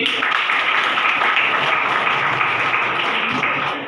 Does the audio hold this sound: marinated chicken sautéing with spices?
no